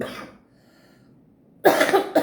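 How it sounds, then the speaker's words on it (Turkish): A woman with a chronic cough gives a couple of harsh, close, loud coughs after a brief quiet stretch. "benim öksürüğüm zaten müzmin hiç geçmez"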